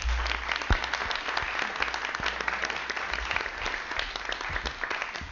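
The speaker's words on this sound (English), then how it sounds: "please give Daphne another round of applause." Audience applause at a city council meeting, a steady wash of clapping hands from a room full of people, sustained for several seconds at moderate loudness with no talk over it.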